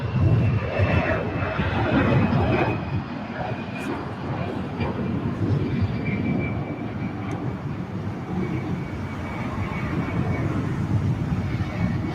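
An Emirates airliner from Dubai taxis at LAX toward the Tom Bradley terminal, a steady broad engine rumble with a thin high whine running through it, heard from a distance with wind buffeting the microphone.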